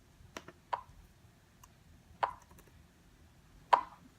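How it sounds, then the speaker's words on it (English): Metronome ticking slowly at 40 beats per minute for guitar practice, sharp wooden-sounding clicks about one and a half seconds apart, faint and close over quiet background noise, with a few softer taps between. "So you want to do this with the metronome."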